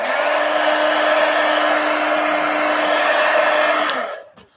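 A hair dryer blows on drawing ink in a steady, close, continuous whir with an even whine, running without pause for about four seconds before switching off and falling quiet.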